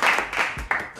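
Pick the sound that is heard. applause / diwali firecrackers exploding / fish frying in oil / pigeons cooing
applause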